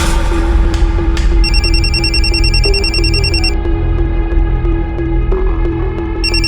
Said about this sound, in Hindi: राकेश भैया का फोन है, तुम्हारा फोन नहीं लग रहा है,